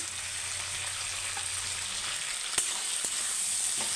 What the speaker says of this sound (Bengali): আমি এটাকে ভালোভাবে মিশিয়ে নেব